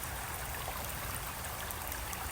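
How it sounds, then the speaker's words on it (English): Water poured onto a lithops succulent, a steady close trickling rush that runs unbroken and fairly soft, with no talking. "So notice that the water is coming out."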